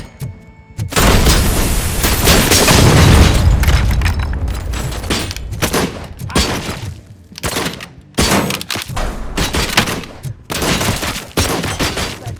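Heavy gunfire in the Robocop: Rogue City video game, a dense, loud barrage of overlapping shots and booms that swells then breaks into shorter bursts with brief gaps.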